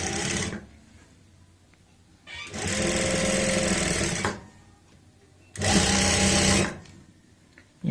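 A sewing machine stitches a pocket onto fabric in three bursts, each whirring loudly for about one to two seconds, with quiet pauses between them.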